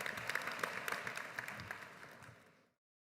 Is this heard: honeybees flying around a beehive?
no